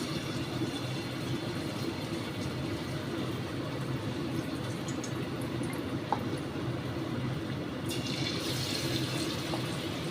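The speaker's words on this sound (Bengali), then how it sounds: "তেল গরম হয়ে গেছে এইবার আমি শিমটা জাস্ট এরকম করে নিয়ে এই ছেড়ে দেবো" A stuffed flat bean (shim) pakora goes into hot oil, bringing a dense, continuous sizzle and crackle of frying that stays loud and close throughout, with a single faint clink partway through.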